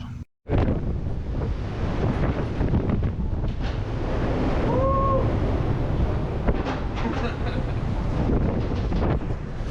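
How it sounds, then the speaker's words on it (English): Steady, roaring 50 mph wind gusts buffet the microphone aboard a ship at anchor, with broad rushing noise throughout and a brief faint whistle midway. "50 mile an hour gusts."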